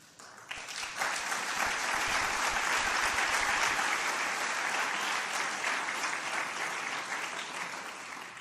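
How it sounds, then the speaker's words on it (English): Sustained applause from a large audience swells in after a brief quiet start and holds steady, a dense wash of clapping heard from a little distance that slowly tapers. "And I hope you guys all clap for him"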